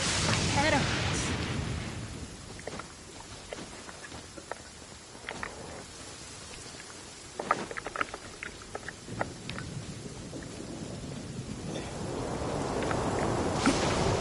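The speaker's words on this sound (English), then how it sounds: "It's thundering. So loud." Steady rain hiss with low rumbling thunder swelling at the start and end, plus scattered footstep-like clicks, from the Genshin Impact video game. The weather sounds sit at moderate level with a voice talking over them.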